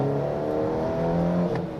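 A 2014 Mitsubishi Lancer Evolution X GSR accelerates as the throttle is rolled on, its engine note rising steadily from inside the cabin, loud and close, with no one talking.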